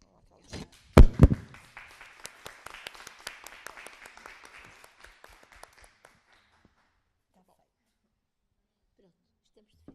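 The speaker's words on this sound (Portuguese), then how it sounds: "Então, vamos aplaudir" Conference audience applauding at the close of a session: a few sharp opening claps swell into brief scattered applause that thins out and fades to silence within a few seconds.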